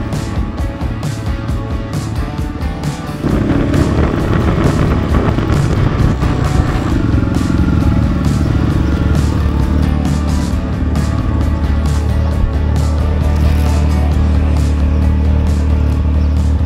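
A KTM 450 rally replica motorcycle races through the desert during the Morocco Desert Challenge, its engine droning loud and steady with wind rush and a surge in intensity after a few seconds.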